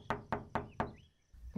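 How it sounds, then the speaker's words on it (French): Four sharp knocks on a wooden door in quick, even succession, close and clear, followed by a short quiet stretch and faint rustling. "on toque à la porte"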